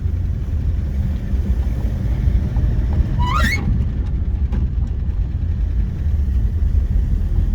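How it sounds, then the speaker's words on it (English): A Packard engine idles at a steady, quiet low rumble with slight lifter ticking. A brief chirp rises once partway through. "It's actually pretty quiet sounding, other than a little bit of lifter noise."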